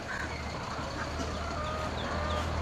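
Several chickens clucking and murmuring nearby in a chicken shop over a steady low background hum, with soft overlapping calls throughout.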